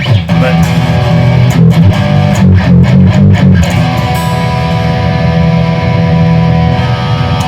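A Washburn USA Custom Shop Nele Standard Nuno Bettencourt guitar on its neck pickup plays heavily distorted chords and notes with a thick, saturated high-gain tone, ringing out loud and close.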